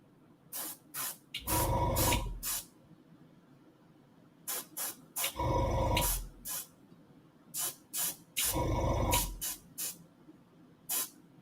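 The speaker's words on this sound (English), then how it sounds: "And so I'm going to be very angled with this airbrush." An airbrush spraying dilute paint at an angle to deepen shadows, in three long loud hissing bursts separated by short quick puffs and pauses, close up and alone.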